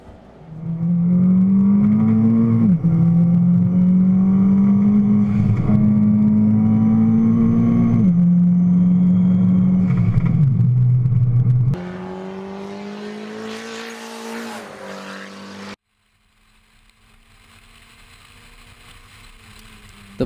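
A VW Jetta race car climbs Pikes Peak Highway, its engine droning loud and steady through repeated rising gear pulls, then easing off and dropping away briefly before picking up again.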